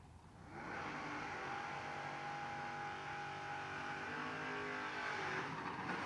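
A drag race car at a Friday $10 Grands event roars hard and steady at full throttle, loud and sustained for several seconds after a short rising start.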